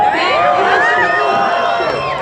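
An audience cheers and whoops loudly at an interview event with actor John Wesley Shipp, a dense burst of close crowd voices lasting about two seconds.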